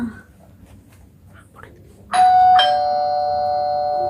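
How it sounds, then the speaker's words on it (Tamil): A doorbell chimes two tones, bright and loud, ringing out after a stretch of quiet room noise with faint murmuring, in a Tamil Christian drama. "அது காலிங் பெல் இருக்கு அடிச்சு பாரு"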